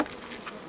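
Honey bees buzz at a beehive during honey extraction at a village museum, a short, close, steady insect drone.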